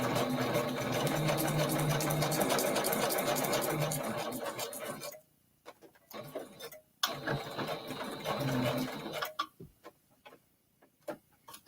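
A sewing machine stitches signatures into a junk journal, its rapid mechanical chatter running steadily, then stopping and restarting in short bursts with quiet gaps between.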